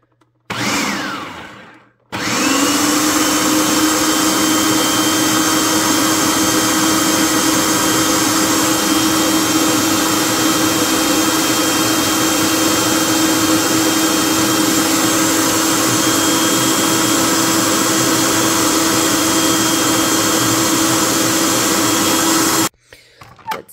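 A countertop blender purees spiced cranberry sauce with the peels still in it, a loud steady whirring motor running close up for about twenty seconds before it cuts off abruptly.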